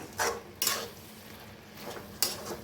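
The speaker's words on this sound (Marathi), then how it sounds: "तर एकदा मिक्स करून घेऊया. मिक्स करून घेते." Spring onion greens stirred in a pan with a utensil, a few distinct scraping clinks against the metal spaced apart over faint background noise, no talking.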